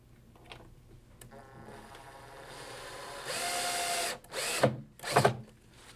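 Power drill fastening a small bracket to a cabinet top, the motor whirring up and holding steady, then two short loud bursts as the screw drives home, close and alone.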